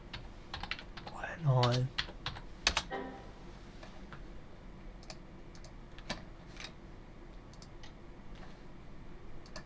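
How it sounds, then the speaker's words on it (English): Clicks of a computer keyboard while typing a file name on a Windows XP machine, quick scattered keystrokes close by, with a brief louder burst of clatter early on and a faint voice in the background. "I'll type in boot.ini"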